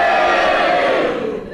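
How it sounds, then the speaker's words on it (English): A studio audience at a Just A Minute panel game erupts all at once, cheering and booing over a challenge decision. The dense, loud crowd roar holds steady and fades slightly at the end. "if you agree with Prunella's challenge, would you cheer, and if you disagree, would you boo, and you all do it together now"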